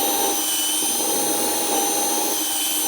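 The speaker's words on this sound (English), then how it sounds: "Go get the drill." A steady, high-pitched whirring drone runs without a break as a power drill bores into MDF, close and loud with no talking.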